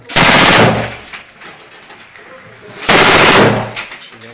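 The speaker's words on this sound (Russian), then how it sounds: "Это наш командир стреляет." A commander fires at enemy positions in a combat zone, two loud close bursts of gunfire about two and a half seconds apart, with quieter background noise between them.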